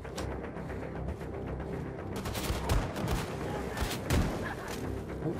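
Rapid gunfire in the video game Wolfenstein 2, with dense bursts of automatic shots and booming impacts rattling continuously, loud and close, with a faint voice under the din.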